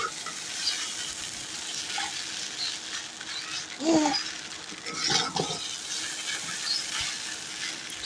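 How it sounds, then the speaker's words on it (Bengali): Noodles sizzle steadily in a pan while being stirred, with a constant frying hiss and a few louder scraping strokes from the utensil, heard up close. "দিয়ে আমি সুন্দর করে নাড়াচাড়া করে দিচ্ছি।"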